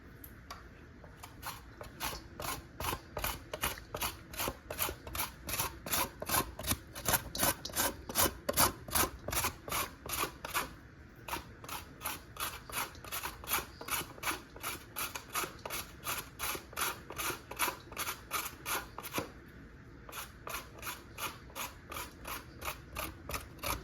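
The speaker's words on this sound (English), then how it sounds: "I'm gonna shred the carrot." Carrot being shredded on a handheld grater, rapid regular scraping strokes in a steady rhythm with brief pauses, close and fairly quiet.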